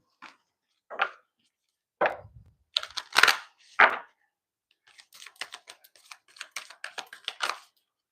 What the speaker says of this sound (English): Ooh, a lot of cards want to shuffle out.